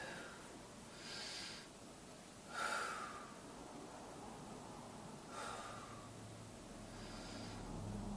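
Slow, audible breaths during a full-body yoga stretch, a few soft inhales and exhales spaced several seconds apart, quiet and close, with no talking.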